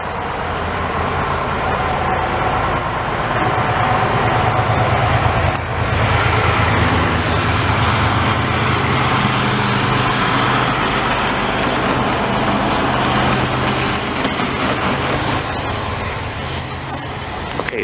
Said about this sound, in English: Frickin' Peterbilt 379